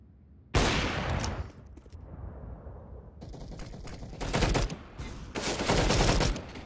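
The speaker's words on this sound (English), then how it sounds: "Green's using an unsuppressed A1S." Unsuppressed M4A1-S rifle fire in the video game CS:GO rings out in loud, sharp bursts, with a first volley followed by several rapid strings of shots.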